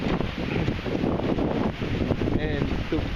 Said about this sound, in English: And the wind is kind of going from sort of left to right on your screen here.